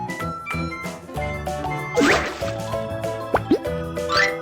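Dirty clothes splash and plop into water in a kids' baby-care game, with bright drips and bubbly plops over light cartoon music.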